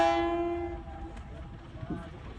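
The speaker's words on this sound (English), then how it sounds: "The train is headed from Zimbabwe to Zambia." A train on the railway running from Zimbabwe to Zambia sounds a strong horn blast that fades within about a second, leaving faint rail rumble and background noise.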